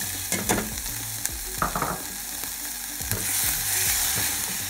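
A spoon stirs flour into boiling choux pastry dough in a pot, giving close scraping and sizzling with a few sharp knocks against the pan and a steady bubbling hiss, with no talking.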